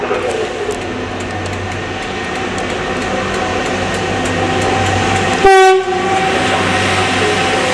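A stoneblower track-maintenance train storms through Peterborough station heading for Hitchin, a steady loud rumble of rolling wagons and engine drone broken by one long, blaring horn blast near the end, heard close up without speech.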